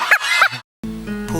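Bantam chickens calling in two short bursts, close and fairly loud, then a brief silence before a harmonic clucking call from the same birds.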